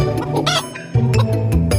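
A hen clucks loudly and close by in a riverside outdoor setting while people try to catch it, giving a rapid run of agitated squawks and clucks with no talking.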